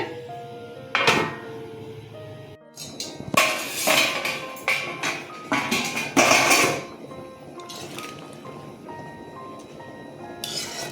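A lid clanks onto a metal cooking pot of taro leaves with hilsa fish heads simmering on a gas stove. Several sharp metallic clatters and clinks come in bursts close by, with quieter gaps between.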